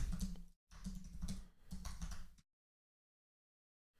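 Quick close clatter of typing on a computer keyboard in three short bursts separated by brief gaps, then silence.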